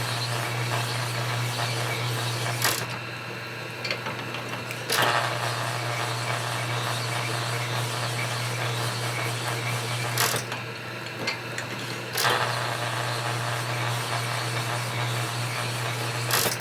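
A honing machine spins a Harley 45ci WL connecting rod during rebuilding, a steady mechanical whir with a low hum and ratcheting texture, broken by a few brief pauses and restarts, close and continuous, no voices.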